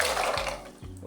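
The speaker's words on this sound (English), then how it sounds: "Okay, so we pour water and then you add little salt to that." Water poured into a cooking pot for boiling freshly harvested groundnuts: a close, steady splashing stream that shifts in pitch as the pot fills, with no talking.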